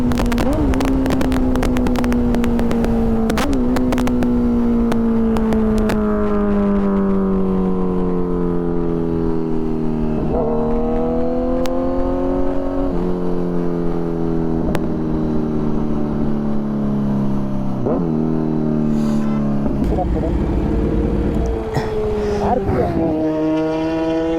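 A Kawasaki Z900 motorcycle engine revs hard through repeated climbs in pitch, each pull rising smoothly before a sharp drop and the next surge, loud and close, with wind rush and a voice talking over it.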